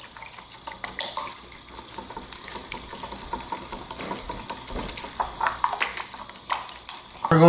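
A sugar and rice vinegar dressing for slaw whisked in a small bowl, giving rapid rhythmic clinks and taps of utensil on dish throughout, with a louder knock at the end.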